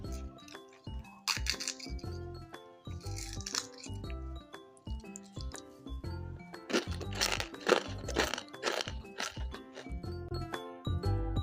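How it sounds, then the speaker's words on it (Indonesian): Crisp Eid cookies crunch and crackle in irregular bursts close by as they are crushed, with light music playing softly underneath. "Kita coba dengerin kriuknya dulu ya"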